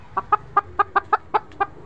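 Gavrani country hen clucking as it is caught, a quick series of about eight sharp, evenly spaced clucks, loud and close.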